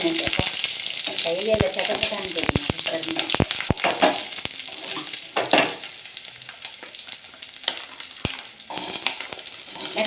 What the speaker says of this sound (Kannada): ಬೀಟ್ರೂಟ್ ಹಾಕಿ ಚೆನ್ನಾಗಿ ಫ್ರೈ ಮಾಡಿ